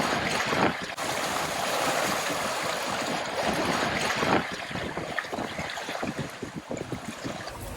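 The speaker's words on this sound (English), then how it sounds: "And now we get what appears to be a nice sail home." A sailboat running on a beam reach at about 5.5 knots in calm sea and light wind on a hot day, with steady broadband water rush and wind noise against the microphone, louder for the first four seconds, then choppier with splashes.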